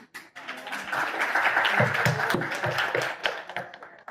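A group of people claps together in a room, a brisk, dense run of hand claps that starts abruptly, holds at moderate loudness, then tapers off.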